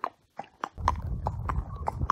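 An ex-racehorse walks on a hack, its hooves clip-clopping in a steady, even rhythm of sharp, close hoofbeats, with wind rumbling underneath.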